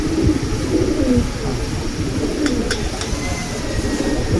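Silver pigeons kept for flying coo loudly and continuously up close, a dense low warble joined by a few sharp clicks partway through.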